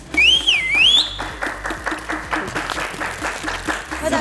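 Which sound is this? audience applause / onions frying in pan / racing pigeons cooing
audience applause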